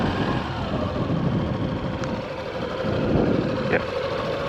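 A geared motorcycle idles nearby during a first riding lesson, a steady low mid-pitched engine hum with a slight swell in revs, no voices over it.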